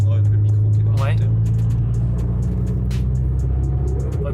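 A Nissan Silvia S15 Spec-R engine heard through a microphone in the engine bay, a loud, steady low rumble with a droning tone that shifts slightly as it runs, with intermittent ticks and a voice talking over it.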